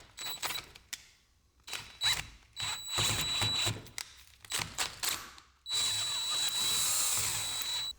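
A power drill bores a hole through a car part on an E46 BMW wagon, running in several short bursts with pauses before one longer, steady whine near the end, close and loud with no talking.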